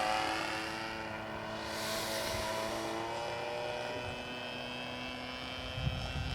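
A radio-controlled model airplane flies in the rain, its motor a steady, moderately loud drone with shifting tonal harmonics that swells and fades slightly as it circles, over a constant wash of background noise.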